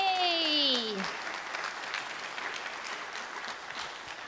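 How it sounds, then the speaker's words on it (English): Convention audience at GalaCon 2023 breaks into sustained applause after a brief rising vocal whoop at the start; the clapping carries on steadily at moderate loudness to the end. "Give her a round of applause, everybody."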